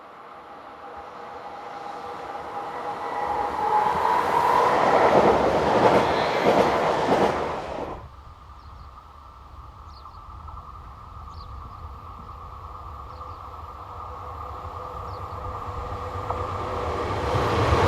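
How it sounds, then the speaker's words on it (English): A bi-mode diesel and dual voltage electric multiple unit, B82660, passes loudly at close range with a rising roar and rattling wheels, then cuts off abruptly, leaving a quieter rumble fading away. "as B82660, a bi-mode diesel and dual voltage electric multiple unit, heads north forming the 1825 Compiègne to Saint-Quentin"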